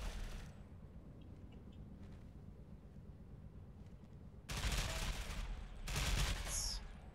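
Automatic gunfire from the tactical shooter game Tom Clancy's Ghost Recon Phantoms breaks out in two loud, dense bursts after several seconds of low background noise, the second burst slightly louder than the first.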